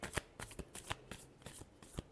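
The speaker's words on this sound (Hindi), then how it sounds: "Last shuffle." Tarot cards being shuffled by hand, a quick run of crisp riffling flicks in uneven rhythm, close and quiet with no talking.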